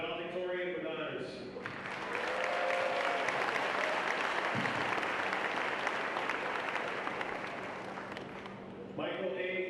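Crowd applause at a Notre Dame university graduation ceremony swells after a graduate's name is read and holds steadily for several seconds, with an announcer's voice heard before and after it.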